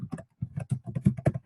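A computer keyboard clatters with quick, light keystrokes in short irregular bursts, close and clear with brief pauses between clusters, and no talk over the typing.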